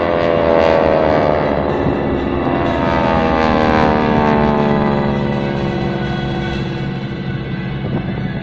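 Geico Skytypers World War II propeller planes fly overhead at the Fort McHenry airshow. A loud, continuous droning roar of several piston engines fills the air, with the pitch slowly sliding as the aircraft pass.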